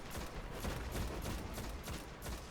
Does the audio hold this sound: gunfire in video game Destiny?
yes